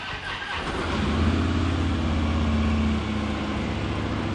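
A 2013 Harley-Davidson Ultra Classic Electra Glide FLHTCU motorcycle engine cranks and fires up, settling into a steady, close rumble after a brief starter whir.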